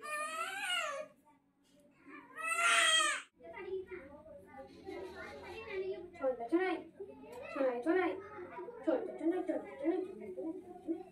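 A newborn baby, restless after being laid on the bed, cries in two short loud bursts near the start, then soft whimpers continue under someone talking at home.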